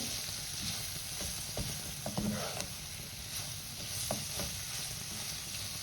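Paneer cubes with mixed herbs and garam masala being stirred in a frying pan, giving a steady close sizzle with occasional soft scraping knocks of the spoon against the pan.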